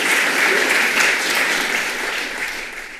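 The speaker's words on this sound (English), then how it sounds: "Let's give them a round of applause." Audience applause at the close of a public lecture on theology and modern art, dense steady clapping filling the room, loud at first and tapering slightly toward the end.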